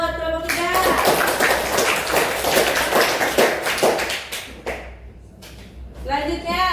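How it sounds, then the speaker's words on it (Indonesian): Classroom applause for a student group after their presentation: dense, steady hand-clapping from a crowd of students lasting several seconds, with voices mixed in, tapering off near the end before a voice resumes. "tepuk tangan buat kelompok 3"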